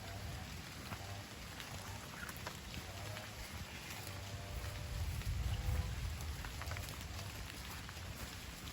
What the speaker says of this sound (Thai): ใช่ฝนเนี่ยตกหนักมากนะครับ